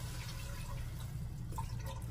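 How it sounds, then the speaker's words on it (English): Almond milk pours into a hot pot for mashed potatoes, a soft steady liquid trickle and gurgle close by, continuous for a couple of seconds against a low rumbling background. "Just gonna pour some almond milk in here in the pot while it's hot."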